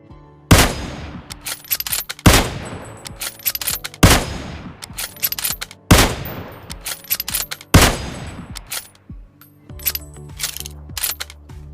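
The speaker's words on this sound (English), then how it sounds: "Even the reloading sound is different for Mosin." Mosin Nagant bolt-action rifle in PUBG Mobile fires repeatedly, loud sharp reports roughly every two seconds, each trailed by crisp metallic bolt and cartridge-loading clicks, ending in a run of reload clatter.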